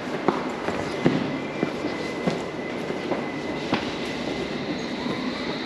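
An underground train at a Whitechapel station platform rumbles steadily with rhythmic clicks and clanks from the wheels and a faint high whine, moderately close, with no voices.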